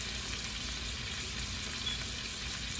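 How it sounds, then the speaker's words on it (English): Burgers sizzle steadily in a frying pan as they brown on one side, making a close, even crackling hiss with no pauses. "my burgers are browning, as you can see on one side"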